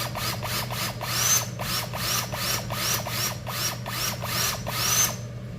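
A valve from a Subaru EJ207 engine is lapped by a spinning tool, making rhythmic repeated whirring and grinding bursts, each about half a second, steady and close.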